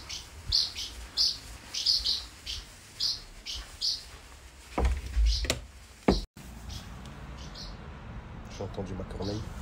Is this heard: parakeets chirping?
yes